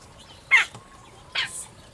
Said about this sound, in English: I've got birds everywhere. I sit here and the birds keep coming in.